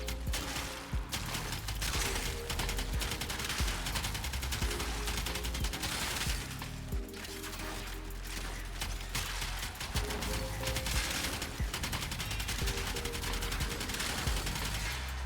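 Twin Kohmak shotguns in the video game Warframe fire in a relentless, rapid stream of blasts. The shots are loud and dense and run continuously with only brief breaks.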